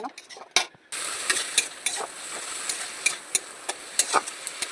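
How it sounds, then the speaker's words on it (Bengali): Red amaranth greens tempered with nigella seeds fry in a pan, a spoon stirring in quick, uneven scrapes and taps over a steady close sizzle that starts after a short pause. "শাকটাকে আমি সুন্দর করে ভেজে নেবো"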